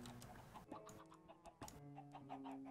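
Chickens cluck in a packed Minecraft farm pen, with a steady stream of short game clucks and squawks overlapping at moderate level and no talking.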